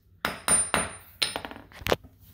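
Hammer blows drive carpet nails into a concrete foundation: four or five sharp, loud metallic strikes in quick succession with ringing decay, alone without talk.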